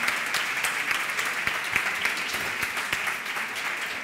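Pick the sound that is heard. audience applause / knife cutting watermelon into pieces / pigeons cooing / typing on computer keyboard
audience applause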